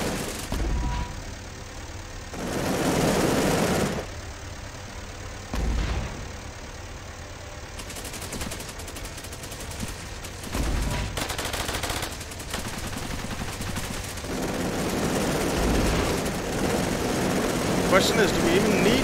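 Mortar strikes exploding in Cepheus Protocol horde mode, several heavy booming blasts spaced seconds apart amid ongoing gunfire and engine rumble, with someone talking.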